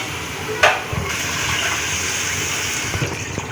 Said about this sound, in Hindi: ये हम लोग पानी डाल रहे हैं